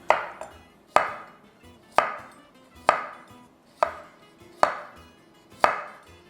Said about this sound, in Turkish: ben size böyle keserek de göstermek istiyorum